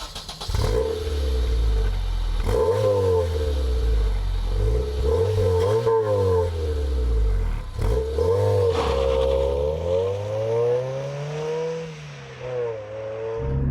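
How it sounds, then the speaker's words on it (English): A Toyota MR2 engine revs repeatedly with a loud, raspy, blatting exhaust note through a rusted-through rear muffler, rising and falling in pitch through several throttle blips, close by. "The main deal is the rear muffler, which has rusted through, which sounds just fantastic."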